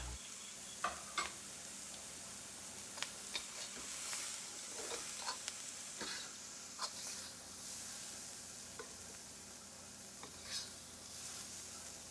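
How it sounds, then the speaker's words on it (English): Fried rice filling with shrimp and Chinese sausage sizzles steadily in a pan while being stirred, with periodic clicks and scrapes of the utensil over a continuous soft frying hiss. "give it a quick stir until everything's incorporated"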